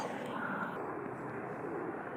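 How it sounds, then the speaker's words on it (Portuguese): A helicopter passes overhead, a loud, steady broadband rotor and engine roar that fills the whole moment without pause. "Vai passar o helicóptero aqui em cima de mim"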